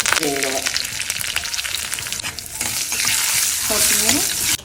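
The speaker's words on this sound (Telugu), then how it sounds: "ఒక స్పూన్ పోపు గింజలు మిరపకాయలు కరివేపాకు" Tempering seeds, red chillies and curry leaves frying in oil for sambar, a loud, close crackling sizzle with stirring scrapes throughout and a couple of brief voice-like tones.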